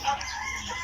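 Modern Game Bantam chickens cluck in a brief burst with a slightly louder onset, then a steady low murmur of fowl sounds, close by with no talk.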